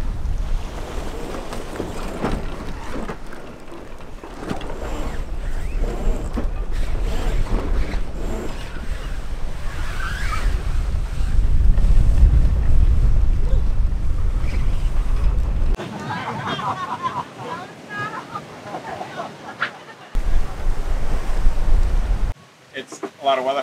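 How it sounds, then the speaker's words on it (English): A chartered sailboat sailing off anchor in the Cyclades in heavy weather, with steady roaring wind buffeting the microphone and waves rushing against the hull throughout, and a brief pause near the end. "We're sailing off anchor right now."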